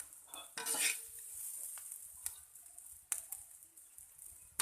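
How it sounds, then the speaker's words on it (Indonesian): Fried tiwul, a cassava rice dish, is scooped from a pan onto a serving plate: scattered spatula scrapes and clinks over a faint, soft sizzle, fairly quiet and close, with no voices. "kita siapkan piring untuk menuang sebagian nasi tiwulnya ke piring buat diperindah dan kemudian disajikan"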